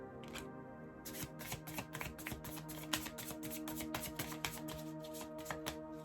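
Tarot cards being shuffled and tossed about during a reading, a dense run of rapid flicking and riffling taps lasting several seconds, close up, with no speech.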